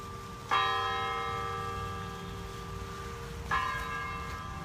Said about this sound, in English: That's the church bells going off here.